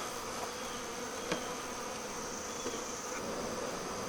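A steady, dense buzzing of many honey bees around a hive fills the air, constant and fairly soft, with a few brief louder passes close by.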